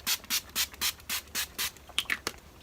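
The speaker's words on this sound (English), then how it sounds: "I just spray it all over my face and let it dry" An e.l.f. setting spray pump misted onto a face in a makeup routine: eight even, evenly spaced hissing bursts, close and moderately loud, followed by a couple of less regular sprays near the end.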